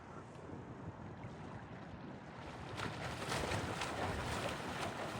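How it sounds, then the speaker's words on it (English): Steady wind rushing across an open, watery setting, growing stronger partway through, with a continuous broadband roar and no voices. "It's windy, so the conditions aren't great."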